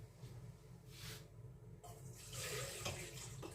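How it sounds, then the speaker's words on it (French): Water is poured into the bowl of a bread kneading machine before the flour, a soft trickle that swells into a fuller splashing pour partway through, close and fairly quiet with no talking. "Donc on met l'eau en premier dans notre pétrin."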